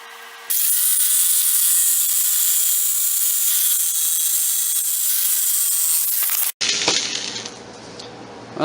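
A power saw rips along a marked line through a clamped wooden blank for a kitchen utensil handle, a loud sustained whine running about six seconds before stopping abruptly and giving way to quieter rattling and handling noise.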